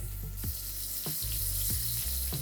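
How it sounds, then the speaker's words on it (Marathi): A spice tempering of sesame seeds, asafoetida, curry leaves and chopped green chillies sizzles steadily in hot oil, with sharp pops and spoon scrapes recurring at a loose, regular rhythm, close and fairly loud, without talk. "फोडणी चांगली तयार झाली की गॅस बंद करून लगेच आपण याच्यावरती फोडणी द्यायची"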